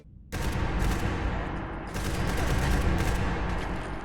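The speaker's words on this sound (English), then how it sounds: "replaces the firearms sound effects to more closely resemble the sounds of real-world weapons" Dense, sustained gunfire from Fallout 4 with a realistic weapon-sound mod, crisp rapid shots rattling continuously with a brief dip midway, loud and close throughout.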